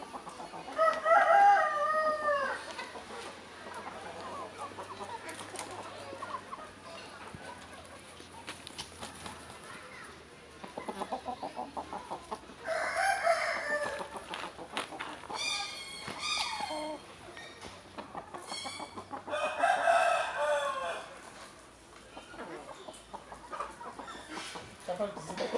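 A young Indian game rooster (Hint horozu), about three and a half months old, crows several times, each a short, rough crow nearby, with clucking between them and someone talking at times.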